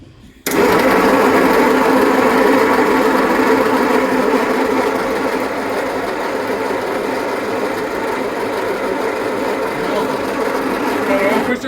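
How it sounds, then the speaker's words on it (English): A starter cranks an engine, producing a loud, close, steady mechanical whirring churn. It kicks in abruptly after a brief quiet start and runs continuously for about eleven seconds. "All right, Emma, just crank it, see what happens."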